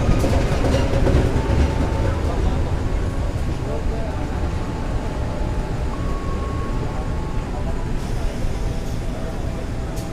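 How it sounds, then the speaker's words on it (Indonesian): Singasari passenger train pulling into Wates station, a steady close rumble of rolling wagons with faint clicking and a thin tonal whine, continuous throughout with a voice briefly present. "Kereta api Singasari sudah tiba di stasiun Wates."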